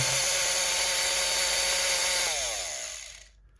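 A repaired Philips blender runs loud and close with a high, steady whine, then winds down and cuts off near the end; no one speaks.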